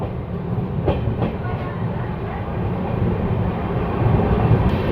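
Passenger train on the newly doubled Rajkot–Jamnagar line near Lakhabava, heard from on board as a steady loud rumble with faint rhythmic wheel clicks, continuous throughout the moment.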